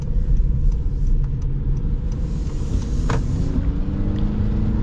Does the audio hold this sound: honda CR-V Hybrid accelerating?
yes